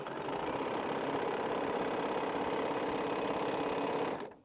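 A sewing machine stitches quilt strips in one steady, loud, continuous run for about four seconds before stopping abruptly, with no talking.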